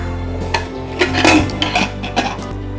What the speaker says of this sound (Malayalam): ഇനി ഈ കുക്കർ ഒന്ന് അടയ്ക്കുക.